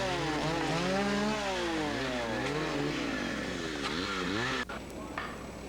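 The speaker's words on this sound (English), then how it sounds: "Heads up when working near chainsaws." A chainsaw engine revs and whines up and down loudly for several seconds while cutting trees to clear a wildfire fire line, then cuts off abruptly.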